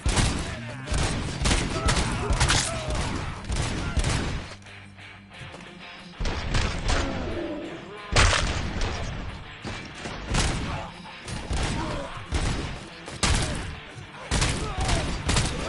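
Heavy gunfire fills a PS5 video game firefight: dense bursts of shots and crashing impacts, loud and near, with a brief lull around the middle before the volleys return under occasional voices.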